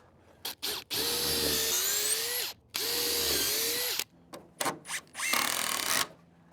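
A power drill whirs through wooden roof outlookers in two long sustained bursts, pitch sagging under load, followed by several short choppy bursts and clicks, close up.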